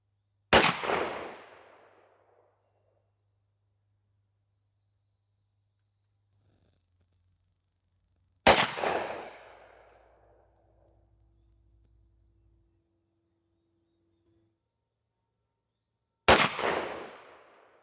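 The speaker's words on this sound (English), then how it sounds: "So let's take a couple shots and see which one pattern's better from my setup" A shotgun loaded with Salt Creek Triple Threat TSS shot shells fires three sharp, loud blasts outdoors at a range, each one spaced about eight seconds apart and followed by a decaying echo, with faint insect buzz in the quiet gaps.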